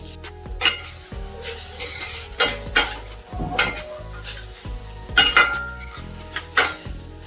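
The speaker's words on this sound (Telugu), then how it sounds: "బాగా కలిపేసుకుందాం కాసేపు వేపేసుకుందాం" A spoon stirs and scrapes through ground coconut and curry leaves in a pan over steady frying sizzle, with repeated clinks and scrapes in bursts, close by and fairly loud.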